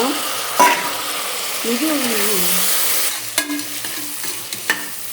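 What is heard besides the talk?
brinjal sautéing with onions in a pan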